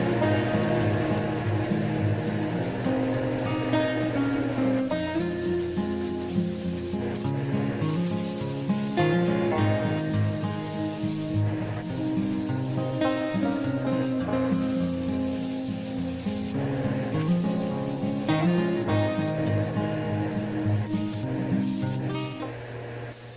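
Spray coating is applied to the rocker panel of a 2001 Chevy Silverado 2500 HD during restoration, a continuous close hissing spray with brief pulses, accompanied by a steady compressor-like tonal drone.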